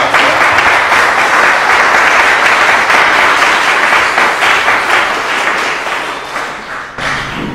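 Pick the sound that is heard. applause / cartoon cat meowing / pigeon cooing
applause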